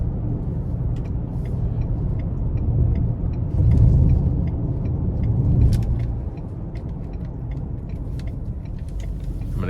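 A 2024 Ford Explorer XLT with the 2.3-liter turbo four and rear-wheel drive accelerates out of a corner, heard from inside the cabin as a steady low engine rumble that swells for a few seconds, then eases back.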